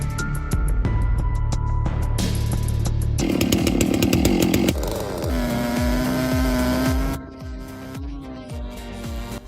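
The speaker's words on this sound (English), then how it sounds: "Watch as the operator cuts through the massive trunk" A chainsaw roars loud and close as it cuts through a massive log trunk, the engine note shifting and bogging down partway through, then easing to a lower idle at the end.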